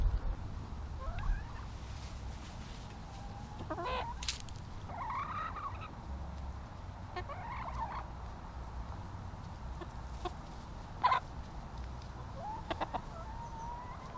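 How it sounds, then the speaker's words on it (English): Chickens cluck and squawk in short bursts close by while fighting over chunks of white nectarine, some calls rising sharply, over a low background rumble and no speech. "The chickens were almost fighting over those little chunks of white nectarine"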